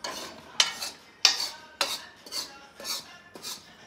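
A sweet pinni mixture is stirred in a pan, seven rhythmic scraping strokes of a spoon against metal, close and fairly loud, with no voices.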